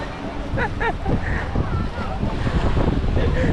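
Sea waves wash onto a beach amid strong wind buffeting, a continuous loud roar of surf with a few faint voices in the background.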